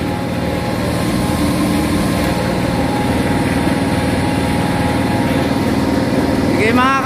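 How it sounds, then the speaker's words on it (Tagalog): A van engine runs after a butterfly valve repair, giving a steady, close, even idling hum with a brief whistling sweep near the end. "Maandar na itong motor mga kabro."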